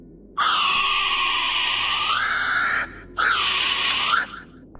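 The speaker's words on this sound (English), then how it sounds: "a screech that sounded identical to that of a female kiwi bird" Recorded screech of a female kiwi bird: two long, loud, harsh sustained wails, the first about two and a half seconds, the second shorter after a brief gap, with no other sound.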